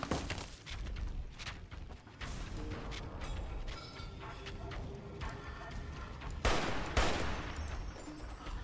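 Video-game combat in Fallout New Vegas, with scattered gunshots, mechanical clicks and clatter, and a louder grenade blast near the end, heard faintly amid background game noise.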